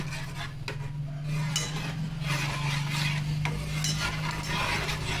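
Jaggery is stirred in a pot, a steady scraping and rubbing of a spoon against the metal over a low continuous hum, with occasional sharper clinks, close and without speech.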